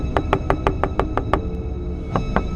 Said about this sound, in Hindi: फिर अचानक एक तेज दस्तक।